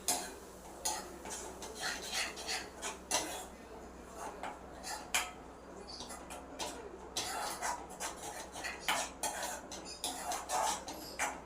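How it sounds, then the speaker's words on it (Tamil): A spoon scrapes and taps around a pan while egg podi masala with coriander is sautéed over medium heat, a quiet, uneven run of clinks and stirring strokes close by. "மீடியமான சிம்மில் வச்சு நல்லா இப்படி சுருள வதக்கி விட்டே இருக்கணும்"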